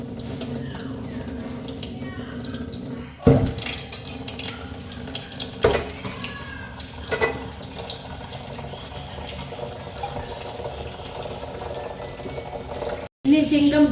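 Running tap water splashes while dishes are washed, a steady watery hiss with occasional clatters and knocks of handled items, close by; a voice speaks over it.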